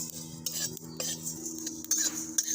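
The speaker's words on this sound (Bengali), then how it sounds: "কড়াতে দিয়ে দেবো এক চামচ ধনে এক চামচ গোটা মৌরি শুকনো কড়ার মধ্যে দিয়ে দিলাম" Whole coriander and fennel seeds dry-roasting in a dry wok, stirred with a metal spoon: light clinks and scrapes over a faint crackle, close and moderately quiet, no talking.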